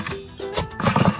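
A horse being fed gives a close, short neigh amid snorting and shuffling hoof movement, all packed into about a second of loud, busy sound.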